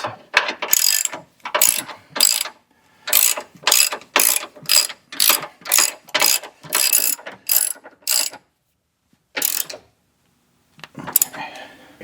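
A ratchet snugs up suspension stretch bolts on a 2011 Ford Fiesta during lower control arm replacement, giving a long run of loud, evenly spaced bursts of rapid clicking, then a pause and a final short burst.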